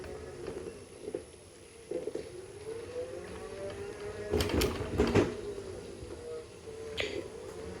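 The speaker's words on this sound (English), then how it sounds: "So it is a bit noisier with that planetary gear set drivetrain," A Pronto M41 power chair with a planetary gear set drivetrain whines as it runs, a moderate motor hum rising and falling with a few louder bursts and clicks.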